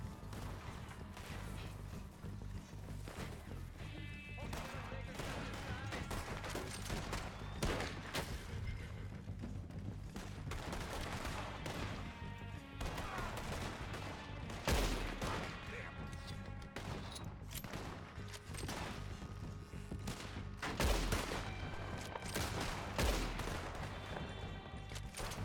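Video game battle gunfire, dense crackling rifle shots and heavy thuds of a firefight continuing throughout, with voices talking amid the shooting.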